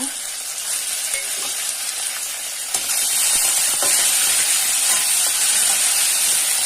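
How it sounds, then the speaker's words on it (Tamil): Ginger garlic paste sautés in hot oil with fennel seeds, shallots and curry leaves for a Tamil chicken pepper masala, giving a steady loud sizzle and hiss that swells a little partway through as the pan is stirred. "நல்லா பச்சை வாசம் போகிற அளவுக்கு வதக்கணும்."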